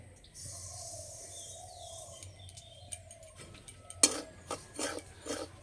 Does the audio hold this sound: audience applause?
no